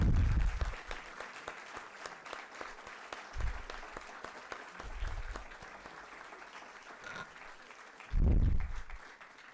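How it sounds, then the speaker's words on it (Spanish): Audience applause at a panel on Latin America, Europe and rising authoritarianism, a continuous patter of clapping from a crowd, fairly faint and distant, with a few heavy low thumps and bumps close to the microphone. "Con este aplauso, María Corina,"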